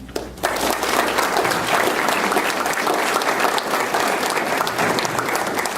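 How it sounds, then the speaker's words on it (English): Sustained round of applause from an audience at a law enforcement awards presentation, loud and steady from start to finish with no talk over it. "let's give a round of applause to District Judge of the Year, David Jordan of Escambia County"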